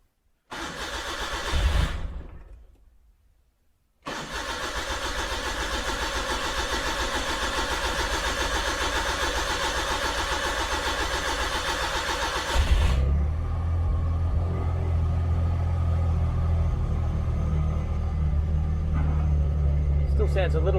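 Suzuki Mighty Boy with choke out in neutral cranks briefly, pauses, then catches and settles into a loud, steady, slightly burbly idle that drops to a lower rumble, with talking near the end.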